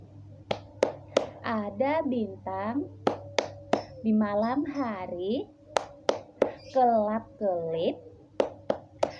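Children's star clap: sharp rhythmic hand claps, close and steady, punctuating a woman's sung rhyme, with claps between each phrase.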